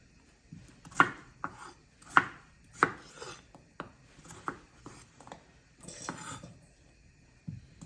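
A knife thuds repeatedly on a cutting board, chopping Idaho and white potatoes into chunks in an uneven rhythm of sharp knocks, close and fairly quiet, with no talking.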